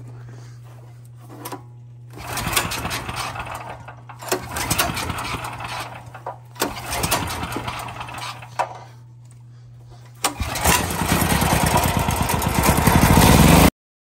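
A generator's recoil starter is yanked several times in separate rasping pulls over a low steady hum, then the engine catches and settles into a loud, close, rattling idle.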